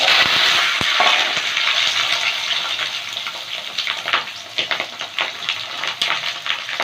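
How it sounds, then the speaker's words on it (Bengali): Potatoes fry in hot oil in a wok with a steady watery hiss, loudest at first and then settling into a softer sizzle broken by small crackles and pops, with no voices. "আলুগুলো ভেজে নেব। কড়াইতে তেল গরম হয়ে গেছে।"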